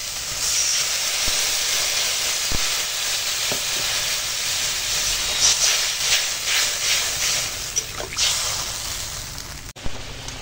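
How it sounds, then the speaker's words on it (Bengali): Water poured onto fried spice paste in a pan sets off a loud, continuous hiss and sizzle that holds steady for about ten seconds, with faint stirring clinks and no talking. "এখন মশলা কষানো হয়ে গেছে, এবার দিয়ে দেব জল"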